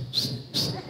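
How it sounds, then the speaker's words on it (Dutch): A person whistles two short, shrill notes in quick succession, close and fairly loud, over a low background hum. "my fluit raak op, man. Ek skree fluit al die hele dag."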